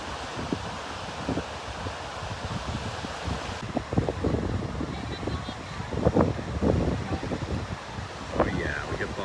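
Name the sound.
offshore wind blowing at the beach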